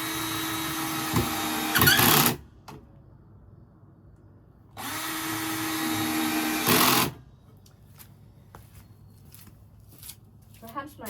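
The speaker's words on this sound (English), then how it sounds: "Perhaps my drilling's getting a little bit better as I go." A power drill drives screws into a raised garden bed in two loud bursts of about two seconds each, whirring then stopping, with quiet gaps and small clicks and knocks of handling between them.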